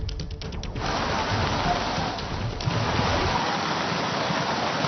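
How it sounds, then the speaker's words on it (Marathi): Heavy rain pouring down in Nashik, a dense continuous hiss and rush of water filling the scene at steady loudness with no voices. "शहरासह जिल्ह्यामध्ये अनेक ठिकाणी मुसळधार पाऊस पडतोय"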